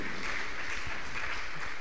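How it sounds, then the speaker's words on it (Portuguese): A church congregation at a Portuguese-language service claps in praise, a dense and even wash of applause that holds at moderate loudness throughout with no voices on top. "Vamos dar mais uma salva de palmas para louvar o santo nome de Jesus Cristo."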